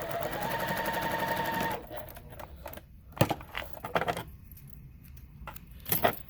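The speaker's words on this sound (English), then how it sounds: "So I would just sew these together." A sewing machine stitches quilt squares with a 1/4 inch seam, running in a fast steady whir for under two seconds before stopping, then followed by a few quiet handling clicks and taps nearby.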